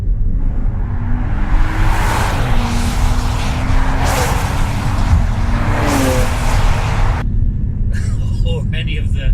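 Engine of a 2019 Maserati Levante 350 SUV on the move, a loud steady growl with rising and falling rev tones and gear changes, heard from the cabin over constant road rumble, ending in a brief different clattering noise.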